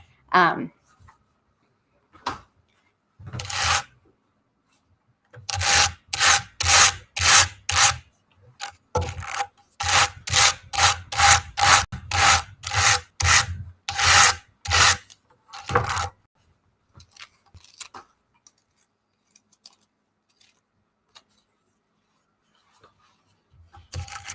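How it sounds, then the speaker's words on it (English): Close, loud rhythmic brushing strokes from a fiber doffing brush, scratchy rasping bursts in quick runs of four or five, with brief pauses between runs and softer scattered scrapes at the end. "you're going to get a good understanding of the doffing sound"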